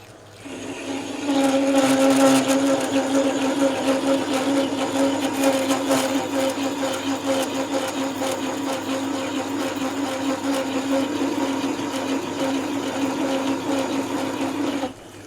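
Metal lathe parting off a workpiece, a steady grinding whine with a strong tonal hum that runs unbroken for about fifteen seconds, close and fairly loud, with no talking.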